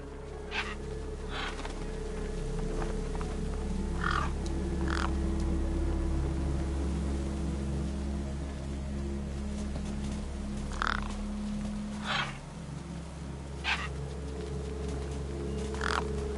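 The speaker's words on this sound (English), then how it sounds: "Damn birds!" Crows caw in the Beyond A Steel Sky video game, a scatter of short, sharp calls spaced irregularly across the clip, some nearer and some farther off, over a steady low hum and ambient drone.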